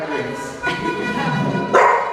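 A pet dog gives a couple of short barks and yips, close and fairly loud, with a pause between them.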